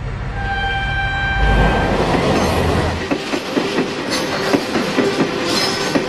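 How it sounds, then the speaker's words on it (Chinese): Freight trains on the Shuohuang railway, a busy 594-kilometre Chinese energy-transport line, rumble past loudly with steady rolling wheel noise that turns into a rhythmic clickety-clack of wheels over rail joints. "每天 113对列车在这条铁路上穿行"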